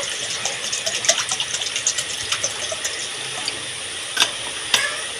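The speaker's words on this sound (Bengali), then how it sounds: "খালি কড়াইতে জল দিয়ে দেবো।" Water gushes into an empty wok on a lit gas stove for a Bengali ol chingri dalna. It makes a steady, close pouring rush with scattered clinks and a few sharper knocks near the end, and nobody speaks.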